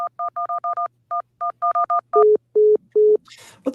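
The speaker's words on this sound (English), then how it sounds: "I heard him press a button." Telephone keypad tones beep in quick bursts, about a dozen short dual-tone presses followed by three longer lower tones, clear and close over near silence.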